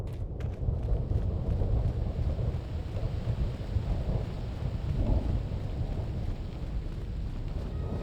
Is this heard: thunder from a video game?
yes